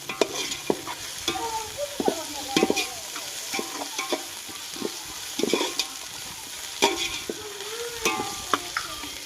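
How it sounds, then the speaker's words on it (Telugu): A ground coriander and mint spice paste fries and sizzles in a pan while being stirred for pulao, with sharp scraping strokes of a spoon at an uneven rhythm over a steady hiss. "మొత్తం అయితే బాగా ఫ్రై అయిపోతుంది కదా"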